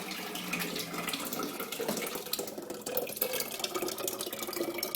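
Ice cream mixture poured into a vintage Proctor Silex ice cream maker makes a steady, close liquid splashing and trickling that runs the whole time, with no talking.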